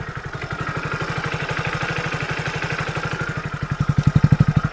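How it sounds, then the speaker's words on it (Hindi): Close by, a Hero HF Deluxe motorcycle idles with a rapid, steady single-cylinder putter of even exhaust pulses, which grow a little louder and more pronounced in the last second. "और अभी जो नॉर्मल इंजन साउंड है मैं आपको सुना देता हूँ"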